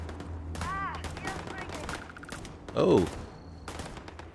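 Gunfire in Starfield erupts in scattered bursts of shots beneath a busy game soundscape, with a louder volley near the end, while players talk over it.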